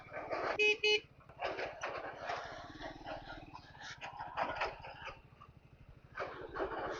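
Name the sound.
vehicle horn honking on off-road trail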